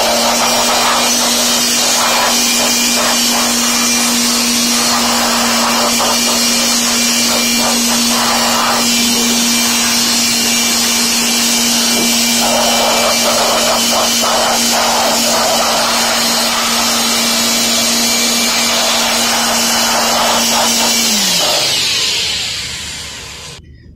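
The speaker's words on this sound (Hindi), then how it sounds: "आप किसी हाई स्पीड ब्लोअर से इसको थोरोली साफ कर सकते हैं।" A high-speed air blower roars steadily while blowing out and cleaning a BLDC hub motor, a loud continuous whoosh with a constant tone that holds for about twenty seconds before winding down abruptly.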